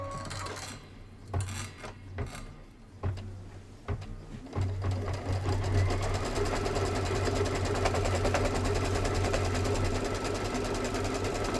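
A Kimberbell embroidery machine stitches applique and quilting through a Spring Showers border, its steady rapid needle rhythm continuing throughout with a few sharper mechanical clunks early on, close and fairly loud.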